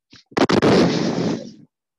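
A sound effect marks an explosion in a children's storytelling show where falling stones smash a battle elephant and horse: a short pop, then a loud, close blast that rumbles for about a second before cutting off.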